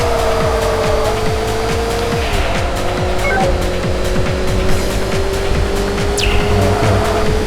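A Mazda MX-5 race car in the PS2 racing game C1 Grand Prix drones loudly and continuously at high revs, its engine pitch shifting slightly, with occasional brief tire squeal.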